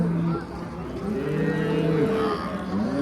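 A cow at a livestock market in Çorum moos in long, loud drawn-out calls that rise and fall and fill most of the moment, with market noise behind it and no talk.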